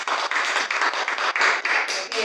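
A classroom audience applauds after a group presentation, with dense, steady clapping from many hands filling the room and continuing loudly throughout, short dips between bursts.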